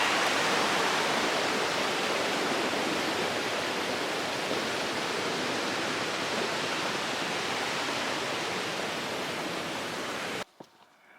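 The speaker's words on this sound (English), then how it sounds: "Just made it across the third stream." Mountain stream on the Pacific Crest Trail near the Cle Elum River, rushing loud and close as a dense, steady roar of water for about ten seconds before cutting off abruptly.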